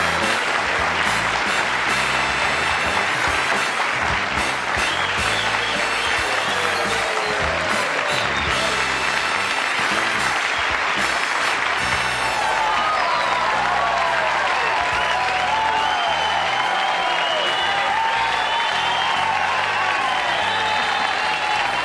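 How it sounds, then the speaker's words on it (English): Long, sustained applause from a television studio audience at a late-night talk show, dense steady clapping with some cheering, lasting throughout with music-like tones entering in the second half. "I'm humbled by that applause"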